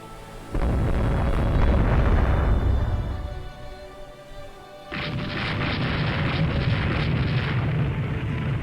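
Heavy booming naval gunfire and shell impacts on a warship in Rule the Waves 2: a deep, rumbling blast that fades, then a second loud roaring burst that sustains to the end, with no talk.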